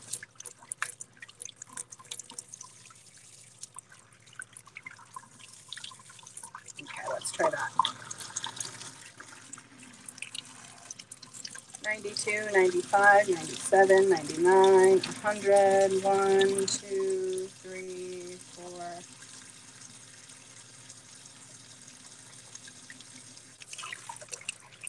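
Warm water running from a tap into a sink during handwashing, with intermittent splashing and a louder gush midway, while a person speaks briefly.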